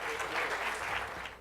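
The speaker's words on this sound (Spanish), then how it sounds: "Por favor, recibámosles con un caluroso aplauso." A crowd claps steadily for a presidential candidate at an event, a short dense burst of applause fading slightly toward the end.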